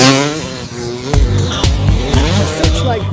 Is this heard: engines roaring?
yes